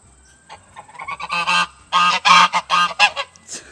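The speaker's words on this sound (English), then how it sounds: "We've always had geese." A series of loud, nasal honks from female geese, irregular and overlapping, close by, rising into a noisy burst of several birds calling at once.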